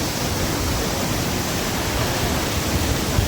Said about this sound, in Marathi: हा सुरक्षित असा धबधबा आहे